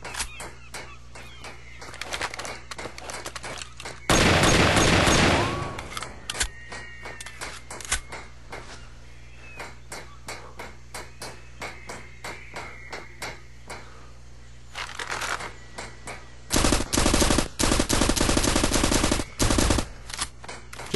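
Dual-wielded one-handed weapons fire in the video game Far Cry, with rapid rattling bursts and loud sustained blasts of fire separated by stretches of quicker, lighter clicking shots, all close and continuous.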